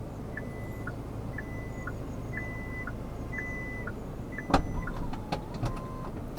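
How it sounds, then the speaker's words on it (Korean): Hyundai Santa Fe power trunk closing, a string of repeated electronic beeps over a low motor drone, ending in a sharp latch click and a few small clunks. "철컥 소리가 나면서 닫혔구나를 청각적으로 알 수가 있습니다."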